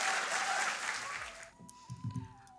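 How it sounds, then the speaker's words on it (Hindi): Audience applause welcoming poet Madhvi Shankar at a mushaira at IIT Bombay's Izhaar 2023, a dense wash of clapping for about a second and a half that fades, leaving scattered faint claps. "इसी शेर के साथ हमारे आज के मुशायरे की पहली शायरा माधवी शंकर जी का मैं ज़ोरदार तालियों से स्वागत करना चाहता हूँ।"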